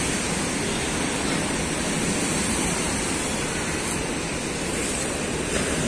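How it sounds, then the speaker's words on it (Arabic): Large waves break along the Alexandria seashore in rough weather, producing a loud, continuous roar of surf that holds steady throughout, with no voices over it. "بقالنا فترة طويلة ما شفناش البحر بالارتفاع الموج ده"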